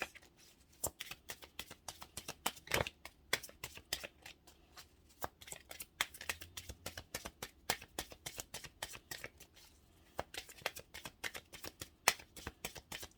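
Tarot cards riffle and snap through repeated shuffles, a fast run of crisp, close clicks and flutters with brief pauses between bursts and no talking.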